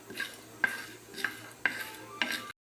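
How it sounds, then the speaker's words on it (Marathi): Chana dal being dry-roasted in a pan over low gas, a spoon scraping and stirring in four or five distinct sweeps roughly every half second, close and fairly quiet, with a faint steady hum beneath. "डाळवं सुद्धा आपण याच्यामध्ये थोडंसं भाजून घेणार आहोत"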